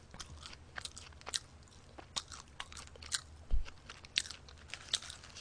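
Someone eats a McDonald's 1955 burger up close, with soft bites and moist crunchy chewing in irregular bursts, all quiet apart from one louder bite near the middle.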